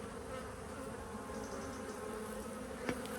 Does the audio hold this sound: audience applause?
no